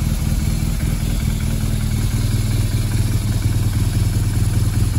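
A BMW R 1200GS Adventure motorcycle engine idles steadily while warming up after a wash, a loud, close, even boxer-twin thrum that runs unbroken throughout.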